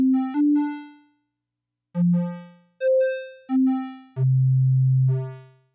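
Synthesizer sine tones from a Reaktor 6 patch shaped by a slow TR-808-style envelope, sounding as a sequence of loud pitched notes at different pitches, each swelling and decaying, some with audible clipping harmonics, alone without talk.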